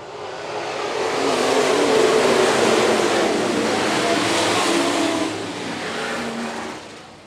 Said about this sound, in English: Clough and Max Quint on the front row about to fire us off out of corner number four.